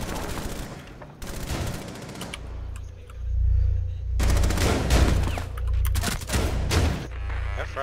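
Shotgun blasts and gunfire in Rainbow Six Siege during a House team deathmatch, loud sharp bursts repeating over a low rumbling bed, with scattered impacts in a busy close-range exchange.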